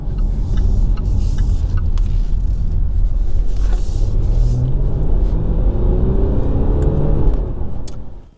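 A Jaguar XFS with a big diesel engine being driven, a steady low engine rumble and road noise heard from inside the car, rising slightly before it fades at the end.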